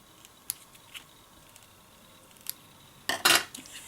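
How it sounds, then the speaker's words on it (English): Scissors snipping a silver strand of twine for a heart rosette Valentine decoration, a few faint sharp clicks followed by a louder cluster of crisp cutting near the end, quiet room otherwise. "I'm going to trim off this silver strand here."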